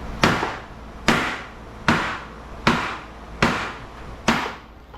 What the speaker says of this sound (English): I like to hit it as close to the weld there, and it'll pop right off